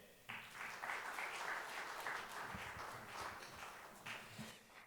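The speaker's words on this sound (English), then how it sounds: "He needs a bigger round of applause, ladies and gentlemen." Audience applause at a corporate committee event on legal jurisdictions and business governance, a steady wash of many hands clapping that starts abruptly and holds at moderate level, with a few faint footsteps or thumps beneath.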